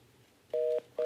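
A telephone line gives two steady, loud electronic tones, each about a quarter second long and separated by a short gap, as a call fails to connect.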